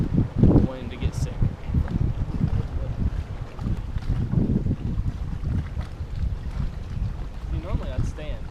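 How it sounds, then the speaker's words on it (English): Strong wind buffets the microphone while fishing from a bass boat with a trolling motor, a constant low rumbling roar filling the whole clip, with muffled bursts of speech partly buried beneath it. "Audio's going to be garbage, mostly because the wind is blowing about 857 miles per hour."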